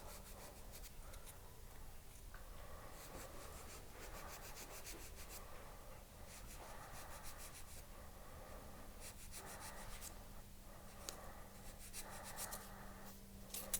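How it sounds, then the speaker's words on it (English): Sanding a textured fold-over silver ring, a steady rubbing scrape with rhythmic strokes that comes and goes in bursts, close and fairly soft, over a constant low hum. "So I'm going to sand this little person off real quickly,"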